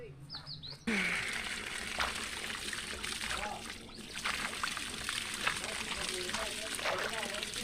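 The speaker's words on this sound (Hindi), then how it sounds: "यहाँ पे अब पानी सैराब कर रहे हैं" Water flows and trickles steadily across a potato field being irrigated in a village in Gilgit-Baltistan, a continuous outdoor wash with faint birds chirping and a brief louder burst at the start.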